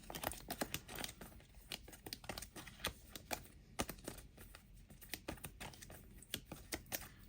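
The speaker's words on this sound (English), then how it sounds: "I'm just going to shuffle them up real good" Cards from a Marvel Champions card game being shuffled by hand, a dense run of quick crisp riffling and snapping clicks in close, steady bursts, with no talk over them.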